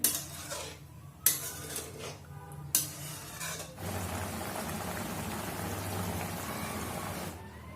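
Cauliflower, tomato and small fish are stirred in a pan, a few sharp clinks and scrapes of a utensil against metal followed by a steady close sizzling hiss, with no talk.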